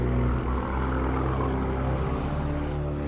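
A Supermarine Spitfire fighter's propeller engine drones loud and steady, a continuous low roar with a slight swell early on.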